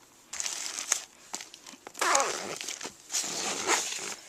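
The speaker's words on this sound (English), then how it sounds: "Then if you unzip this part right here," Zipper pulled open on a tote bag compartment, several close, crinkly bursts of zipping and rustling fabric in short uneven spurts with quiet gaps between.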